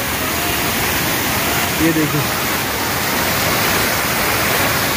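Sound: mountain stream (gadhera) rushing across a road after heavy rain

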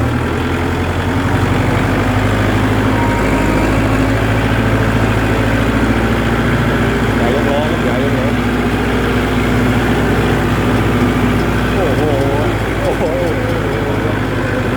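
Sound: Kubota L4708 tractor engine hauling palm fruit

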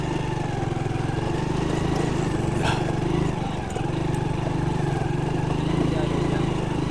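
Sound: motorcycle riding on road

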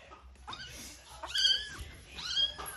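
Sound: kitten meowing

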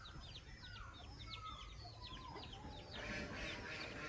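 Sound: chickens clucking in coop

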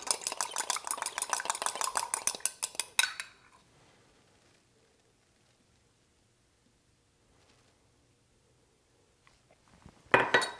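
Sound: whisking lemon vinaigrette in a bowl

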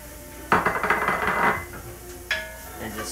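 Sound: stirring sauteing onions and garlic in a pan

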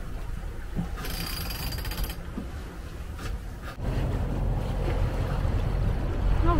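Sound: sailboat under sail with engine off, waves

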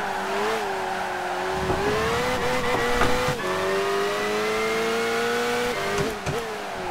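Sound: Opel race car engine in video game Gran Turismo 5

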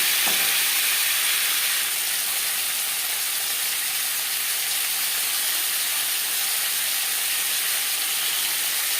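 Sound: potatoes frying in oil with panch phoron spices

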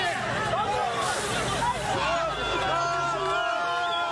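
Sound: angry crowd chasing off occupiers

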